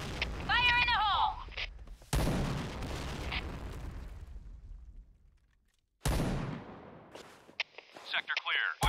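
Loud video-game explosions go off at about two seconds and again near six, each a sudden broadband blast with a long rumbling decay, after a shouted voice line and with more voices and game noise around them.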